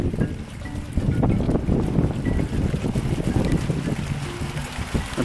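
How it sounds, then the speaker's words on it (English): Strong gusting wind rising quickly during an Arizona monsoon thunderstorm, roaring and buffeting the microphone in a loud, continuous rush with no talking. "And the wind's picking up really fast."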